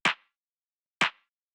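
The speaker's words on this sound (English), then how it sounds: "So what it is it's this clap" Two identical sharp clap hits, about one second apart, each a bright crisp burst with a short tail, from a two-layer clap sample in a lo-fi house beat, alone with silence between.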